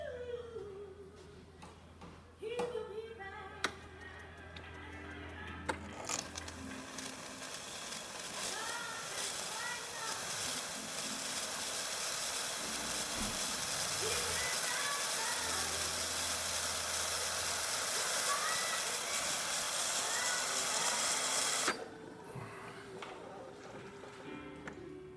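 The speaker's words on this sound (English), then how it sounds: "Now we're going to run the steam function." A Gaggia Academia espresso machine runs its steam function, giving a loud, steady hiss that holds for about fifteen seconds and then cuts off abruptly.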